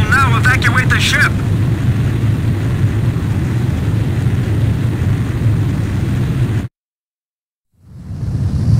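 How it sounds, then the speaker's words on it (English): A fighter jet roars off a ship's catapult in Ace Combat 5, a loud sustained engine rush with a voice over it at the start, ending in a sudden cut to silence before the roar returns. "Aircraft launch confirmed."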